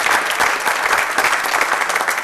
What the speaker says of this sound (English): a nice round of applause for Lynx